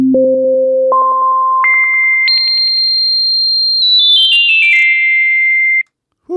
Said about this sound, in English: that's a built-in sine wave